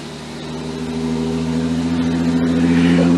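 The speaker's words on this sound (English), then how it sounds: "Car sounds good. Sounds real good." Neighbor's car engine revving as it pulls away, a loud steady engine drone with clear tonal hum that swells gradually over a few seconds, alone without talk.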